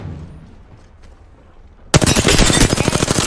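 Rapid automatic gunfire in Apex Legends bursts in suddenly after a quiet stretch, loud and close, firing as a fast continuous stream of shots to the end.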